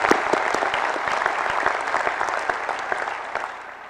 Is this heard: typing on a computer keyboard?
no